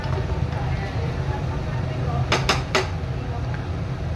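A spatula stirs spiced onion and ginger in a pan for dhaba chicken, with a low steady frying background and three quick metallic clanks of utensil against pan.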